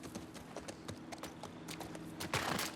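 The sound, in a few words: horse hooves clopping in The Last of Us Part 2 video game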